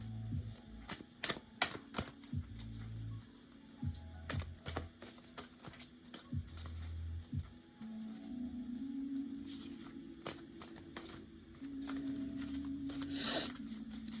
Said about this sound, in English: as I'm shuffling this deck